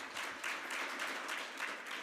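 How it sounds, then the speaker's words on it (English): Audience applause at a developer conference talk after a volunteer presses a big button, a steady wash of many hands clapping heard faintly from a distance, with no voices. "give a big round of applause"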